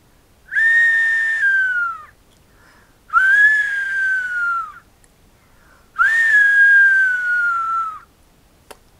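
A person whistles an imitation of a little owl: three long, loud, slightly falling whistled calls, each lasting about one and a half seconds, separated by short silences.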